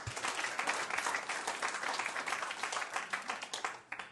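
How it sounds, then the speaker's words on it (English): An audience in council chambers applauds during a regular council meeting, a full, close burst of many hands clapping that holds steady and then starts to thin out near the end. "I'll ask again if we could just hold the applause till the end of the meeting."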